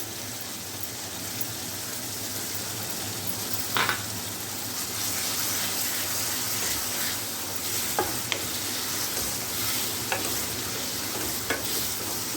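Chicken fries in ghee while capsicum is added, giving a dense, loud, continuous sizzle up close, with a few faint spatula taps and stirring clicks scattered through it.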